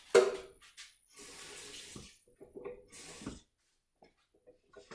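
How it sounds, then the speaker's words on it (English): Water poured into a blender jar of salsa made from chiles with their skins, a few short splashing pours broken by quiet gaps, close and moderately loud. "I'm going to add a little bit of water,"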